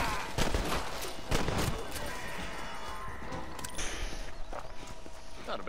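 Gunshots and a fusillade ring out in Red Dead Redemption, several loud sharp cracks near the start over hoofbeats and footsteps, then a steadier rumble of game ambience.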